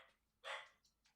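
A dachshund gives one quick, quiet bark indoors, followed by a couple of faint, brief yips.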